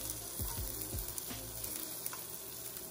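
Salmon pinwheels sear in a hot skillet, with a steady sizzle and crackle throughout and a few brief scraping sounds near the start.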